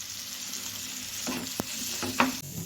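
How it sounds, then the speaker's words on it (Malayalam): Chopped carrot and a small tomato sautéing in a pan, a steady sizzle with a few scraping stirs and a sharp clink of the spatula against the pan. "നമുക്ക് ചെറുതായിട്ടൊന്ന് വഴറ്റിയെടുക്കണം."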